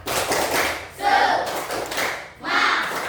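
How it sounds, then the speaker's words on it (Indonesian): Schoolchildren and their teacher in an Indonesian classroom clap out the rhythmic 'tepuk semangat' chant, loud, close bursts of clapping in several phrases with brief gaps between them, voices chanting along. "Coba biar semangat kita sama-sama tepuk semangat dulu."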